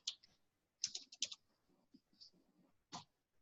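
Keys clatter on a computer keyboard as a username and password are entered: a quick burst of clicks, a short pause, then a few scattered taps and a final keystroke, close and quiet.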